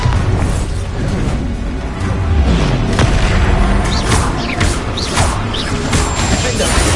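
Bombarda explosion spell going off in the video game Hogwarts Legacy, a loud booming blast amid a dense, continuous mix of crashes, whooshes and game effects, with no clear pause.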